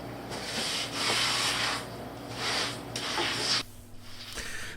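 A trowel drags wet thinset mortar across a shower floor and presses in a waterproofing membrane for a linear drain, making long, close scraping sweeps in about four strokes, followed by a quieter pause.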